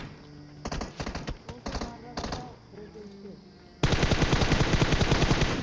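Gunfire in a battle royale video game: scattered single shots and short bursts first, then a loud, sustained rapid automatic volley that continues to the end.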